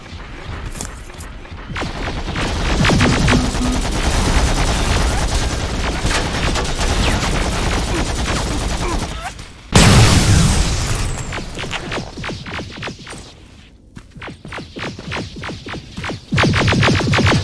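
Dense gunfire rips through a firefight in Terminator: Resistance, with rapid automatic bursts and heavy booms layered over each other. The shooting comes loud and close, drops into a short gap, then returns with sharp repeated shots, and no one speaks.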